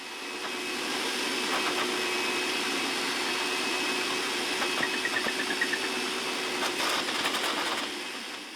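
A vacuum cleaner runs steadily on the carpet in the trunk of a dirty Mercedes-Benz AMG being detailed, pulling up pet hair with a loud, continuous whooshing drone and faint bumps as the nozzle moves.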